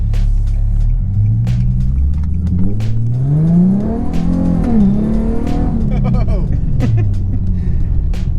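A naturally aspirated Infiniti G37 with a 6-speed manual accelerates hard, its loud engine note climbing and falling steadily in pitch across the pull, with a brief tire chirp and voices faintly under the roar.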